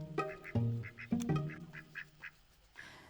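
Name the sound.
Indian runner duck quacking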